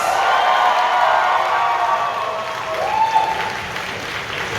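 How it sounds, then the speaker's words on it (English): Sustained crowd applause at an anime convention closing ceremony, steady dense clapping with light cheering, loud and continuous before easing slightly. "More applause!"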